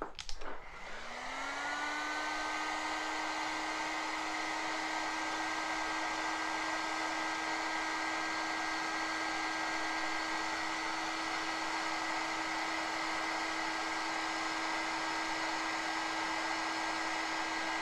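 A hot air blower roars steadily while shrinking heat shrink tubing on a battery connection for a 1/6 scale Armortek Hetzer Jagdpanzer 38 model, a loud constant whine with a brief start-up surge and no talk.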